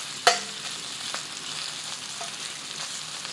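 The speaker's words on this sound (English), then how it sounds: "cook your ground pork or your bacon, this would be the time to add them" Ground pork fries in a pan and is stirred, opening with a sharp utensil clank and then a steady close sizzle with faint scraping.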